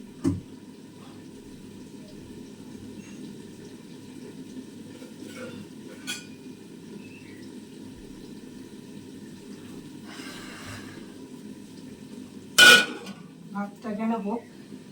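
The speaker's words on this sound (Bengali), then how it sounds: "আর দু একটা বাসন আছে ততক্ষণ আমি ধুয়ে নিই" Dishes and plates are washed by hand with water, with scattered clinks of metal utensils, a short run of water, and one sharp clatter near the end over a low background hum.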